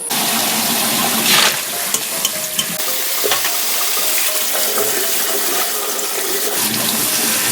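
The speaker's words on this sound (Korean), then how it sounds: "제가 찬물에 헹굼을 해보겠습니다." Blanched young radish greens being rinsed in cold water, with steady splashing and running-water noise throughout and a few brief louder splashes, close and without talk.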